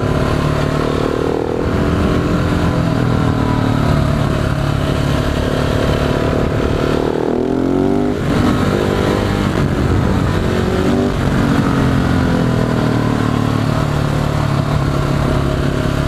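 A 2018 KTM 690 SMC R supermoto with the Evo kit, its single-cylinder engine revving and accelerating loudly and steadily throughout, with the pitch climbing and falling through the gears, close up and without talk.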